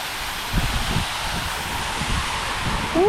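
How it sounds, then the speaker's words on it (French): Gusty wind buffets the microphone near a waterfall in Nicaragua, producing low rumbling thumps over a steady broadband rush, with no talking. "Il y a le vent."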